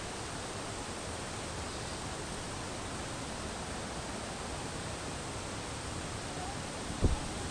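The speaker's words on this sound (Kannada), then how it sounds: "ನೋಡಿ ಇದೇ ವಾಟರ್ ಫಾಲ್ಸ್." Steady broadband roar of a waterfall at Rani Jhula in Bhaktapur, swollen and muddy after rain, heard close and continuous with no voices, and one brief click near the end.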